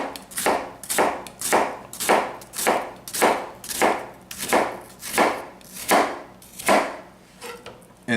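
A knife scores and cuts through an onion on a board in about a dozen evenly spaced, forceful chops, each a close, sharp thud with a brief crunch, in a steady rhythm and without talk.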